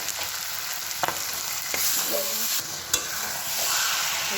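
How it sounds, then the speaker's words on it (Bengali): Chicken sautéed with tomato paste in a pan for biryani sizzles steadily, with scraping stirs and a few sharp spatula knocks over a constant frying hiss, fairly quiet, no voices. "এখানে চিকেনটা কষা চলছে"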